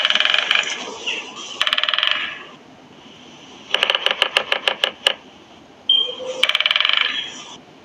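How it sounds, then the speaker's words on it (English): A woodpecker drums out a quick, even series of about eight sharp taps between bursts of bright, buzzy calls, close and fairly loud. "Woodpecker."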